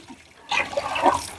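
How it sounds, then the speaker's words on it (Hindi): Water splashing in a tub as clothes are rinsed by hand, a brief quiet lead-in followed by a burst of sloshing and spattering close by. "अब इसको कितनी देर खंगालोगे?"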